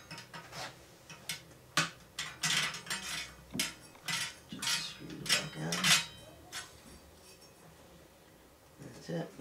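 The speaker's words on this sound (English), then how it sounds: "I'll put the cheese grater one back on." A cheese grater attachment is fitted onto a 1/3 HP electric motor, making a run of close, irregular clicks, clacks and metallic clinks with short pauses between them.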